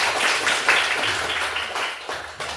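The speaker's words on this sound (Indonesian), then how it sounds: "Tepuk tangan untuk Bapak." Applause from a group after presentations during a teacher performance exam session in a classroom, a dense steady patter of clapping that holds for a couple of seconds and gradually thins.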